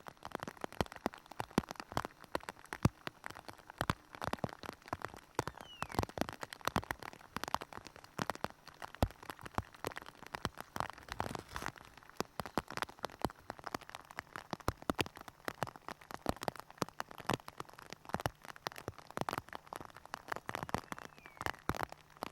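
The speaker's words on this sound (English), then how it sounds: "One of the hardest conditions to film under is rain." Steady rain falls outdoors on rocky, stormy country, a dense patter of drops hitting surfaces continuously and fairly close, with no talk.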